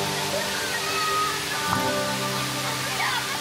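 The top of Kuang Si Falls in Laos gives a steady, broad rush of falling water that fills the clip without a break, with voices faintly mixed into the roar.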